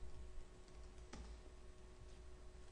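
Keys clatter faintly on a computer keyboard as code is typed, a quiet sparse run of soft taps over low background hum.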